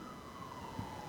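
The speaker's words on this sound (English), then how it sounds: "so you hear police and fire trucks and everything going by" A siren wails steadily at a distance, a faint drawn-out tone over broad background noise.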